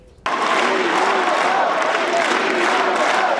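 An enthusiastic crowd at the University of Hartford applauds President Obama's speech on gun control, with a sudden onset of loud, sustained clapping and cheering that fills the space without a break.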